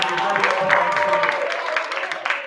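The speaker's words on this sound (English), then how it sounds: "One more round of applause for these guys" A noontime show audience gives a short burst of steady applause with some cheering, dense and fairly close throughout.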